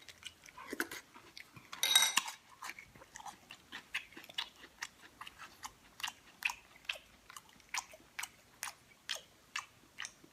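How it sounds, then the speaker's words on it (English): A person chews food loudly and wetly, a steady run of sharp mouth clicks and smacks repeating about once per second, close and alone with no talk. "Don't you hate when people chew extra ignorant?"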